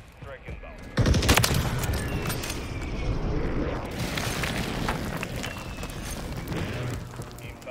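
Heavy airstrike explosions in Call of Duty Modern Warfare III burst in at about one second, then give way to a sustained roar of rumbling blasts and scattered gunfire. A voice talks over the barrage.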